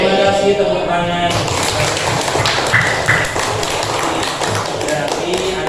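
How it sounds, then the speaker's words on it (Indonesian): Children in an Indonesian religious lesson clap their hands together, a dense, loud burst of rapid clapping filling the room for several seconds, with a voice speaking over part of it. "Tepuk tangan."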